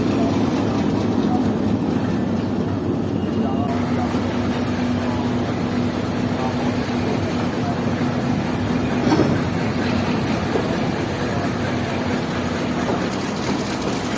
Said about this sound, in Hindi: तो ये ट्रेन पूरे 7 बजे डिपार्ट कर रही है पेशावर कैंट रेलवे स्टेशन से